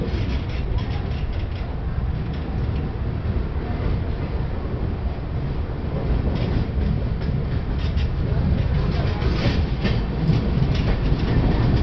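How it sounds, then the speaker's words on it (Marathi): An Intercity Express train pulling out of Dadar toward Pune rumbles with a continuous, heavy low roar and faint rhythmic rail clatter heard from inside the carriage. "आता दादरवरून डिपार्ट झाली आहे ट्रेन."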